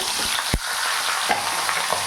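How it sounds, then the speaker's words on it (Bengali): Loud, steady sizzling of fish heads frying in hot mustard oil, with a few sharp spits and crackles popping through the constant hiss. "তেল গরম হয়ে গেছে মাছের মাথাগুলো দিয়ে দেবো"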